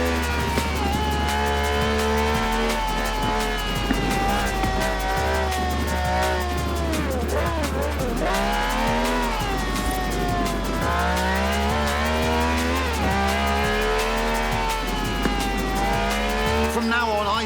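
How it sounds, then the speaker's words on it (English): A V12 supercar with over 750 horsepower in the Forza Horizon 4 racing game revs loudly and constantly, its pitch climbing and dropping with each gear change, and no break in the engine note. "This has a V12 with over 750 horsepower, plus bucket seats."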